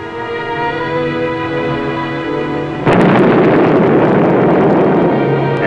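USS Silversides submarine deck gun firing at an enemy ship: a loud, sustained blast of noise bursts in midway over a steady tonal background hum, then rumbles on.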